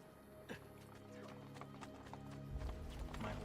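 Horse hooves clop in a quick irregular rhythm in Assassin's Creed 2, then a horse whinnies near the start; the sound is quiet with a low background hum.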